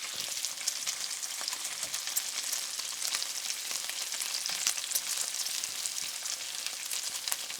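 Bacon frying in a pan, a steady, dense sizzle with crackling pops, close and constant throughout with no voices.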